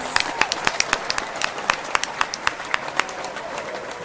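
An audience at a food writers roundtable panel claps, a steady patter of distinct hand claps that stays fairly sparse and even, with no talk over it.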